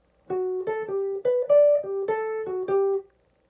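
A bright, twangy electric guitar plays a quick western swing lead lick of about a dozen clean notes, solo and close.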